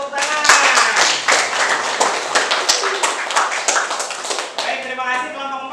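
A classroom of students applauding, dense rapid hand clapping that swells and then thins out, with voices talking over it near the end.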